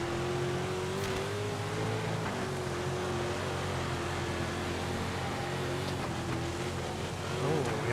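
Sprint car engine in World of Outlaws 24, a steady loud droning roar with a constant pitch held throughout, wavering slightly as the throttle is eased, amid dirt-track racing noise.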